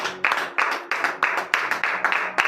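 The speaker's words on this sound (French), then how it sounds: "je vous demande de l'applaudir très très fort ce matin" A church congregation claps hard during a morning prayer service in Benin, with dense, uneven bursts of hand claps that come in loud surges, close and lively, and no speech over them.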